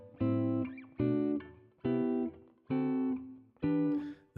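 Five guitar chords struck one after another at an even pace, each ringing briefly before the next, close and clear.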